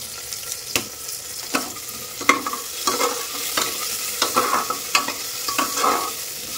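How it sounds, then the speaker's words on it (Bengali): Onion, tomato and whole garlic cloves frying in a pan, a constant sizzle broken by regular sharp scrapes and clacks of a spatula stirring, close and without talk. "এবার এর মধ্যে টমেটো আর গোটা রসুনটা দিয়ে দেবো।"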